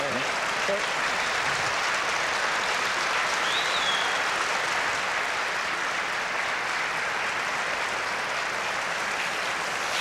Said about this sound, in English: the clapping that you heard signified the end of one of our B-side games